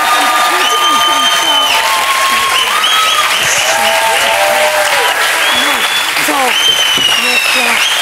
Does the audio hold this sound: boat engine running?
no